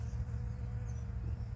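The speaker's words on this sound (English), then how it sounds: "Here is a giant Greggii salvia, and the bees love this plant." Bees buzz steadily around a giant Greggii salvia shrub in a rose garden, a constant low drone close to the microphone with no talking.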